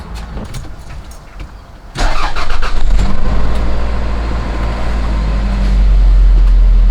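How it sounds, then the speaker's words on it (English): A car engine cranks with a few quick clicks, catches with a loud roar, then settles into a steady, close idle that swells slightly near the end. "let's start the car up and see what happens"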